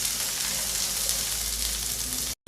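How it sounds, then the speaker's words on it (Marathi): Steady, even sizzling of ingredients lightly roasting in a pan for misal, close and continuous with no talking, cutting off briefly at the end. "तर थोडं भाजत चाललं आहे"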